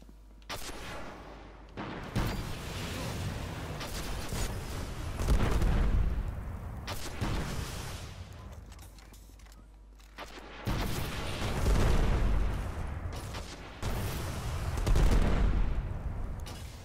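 Heavy artillery and gunfire in a video game, with bursts of rapid shots and booming blasts in clusters separated by brief lulls, dense and fairly loud throughout.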